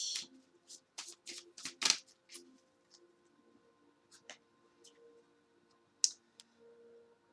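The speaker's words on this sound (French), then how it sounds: "au mélange des cartes" A deck of tarot cards is shuffled up close in a quiet room, a run of crisp riffling bursts at the start, then scattered soft card flicks and taps.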